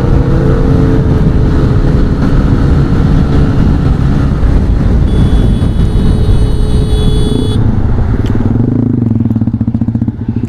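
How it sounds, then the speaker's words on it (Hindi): A motorcycle with an SC Project aftermarket exhaust roars loudly up close, revving and accelerating hard before the engine note drops and fades away near the end, with no talk. "तो गाइस भगाते हैं अपन भी अपनी बाइक को भाई"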